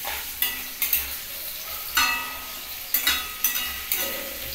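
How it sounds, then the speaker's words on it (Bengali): Chicken pieces fry in hot white oil for chicken rezala, a soft steady sizzle broken by repeated sharp clinks and scrapes of a spoon stirring in the pan. "এবার চিকেন যেহেতু রেজালা হবে, আমি চিকেনটাকে একটু তেলের মধ্যে ভেজে নিচ্ছি।"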